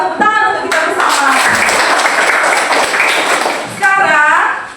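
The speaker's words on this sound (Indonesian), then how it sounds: "Mari sama-sama kita tepuk tangan untuk kita bersama." A classroom of students claps together at a teacher's invitation, a dense burst of overlapping hand claps lasting a few seconds, with voices speaking at the start and end.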